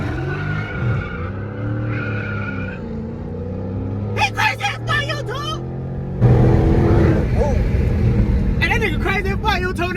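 Dodge Hellcat exhaust rumbling in traffic, a deep continuous burble that swells louder partway through, heard from inside a car with people talking and shouting over it.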